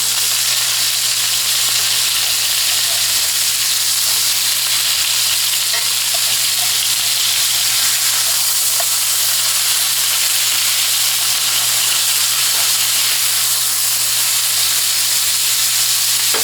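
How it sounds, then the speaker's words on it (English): Meat freshly flipped in a pan sizzles and spatters in hot grease, a loud, continuous, close hiss with faint crackles that holds steady throughout with no talking. "I've gone about 3 minutes on the first side. I'm going to go ahead and flip these over."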